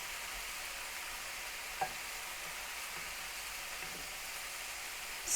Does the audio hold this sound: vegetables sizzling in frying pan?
yes